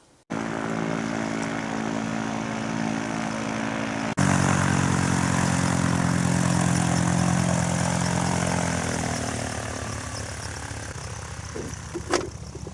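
A propeller-driven fan boat drones loudly and steadily nearby as it arrives in the taiga. The engine grows fuller partway through, then eases slightly toward the end.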